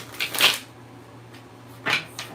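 Tarot cards shuffled by hand come as two short, crisp riffling bursts separated by a quiet pause, close and fairly soft, with no talking.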